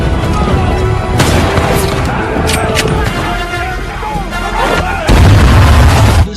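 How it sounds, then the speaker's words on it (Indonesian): Gunshots and booming blasts from a western film battle in The Magnificent Seven crack through a dense, loud soundtrack, with a narrator talking over the gunfire throughout. "Faraday dan Vasquez juga dengan mudah menghabisi para musuh dengan skill menembak mereka"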